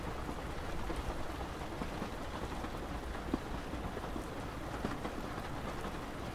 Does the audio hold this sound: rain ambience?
yes